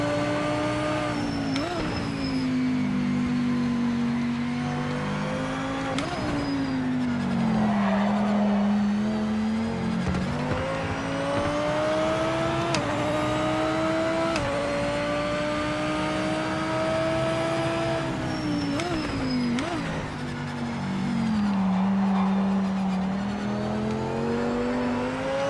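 A race car engine in the driving game Project Motor Racing drones through gear changes, its pitch rising under acceleration and dropping at each shift in a repeating pattern, loud and steady from an onboard view with no speech.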